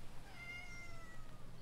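A happy little house cat gives a single drawn-out meow, faint and close, over quiet room hiss.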